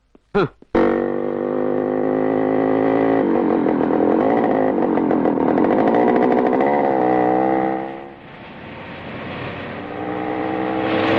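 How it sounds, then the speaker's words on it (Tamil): A vehicle engine in a Tamil film scene drones loudly and steadily for about ten seconds after a couple of sharp bursts at the start, easing briefly around the eighth second before building again. "டிரைவர் வண்டி நிறுத்து."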